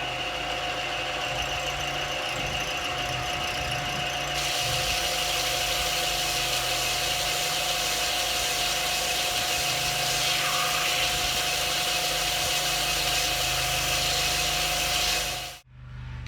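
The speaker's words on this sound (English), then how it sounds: "So we'll get the belt sander out." Belt sander running on a cigar box guitar neck heel, a loud continuous motor whine and grinding hum held steady for about fifteen seconds before cutting off abruptly near the end.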